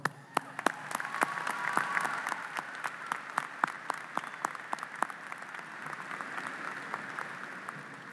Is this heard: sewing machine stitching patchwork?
no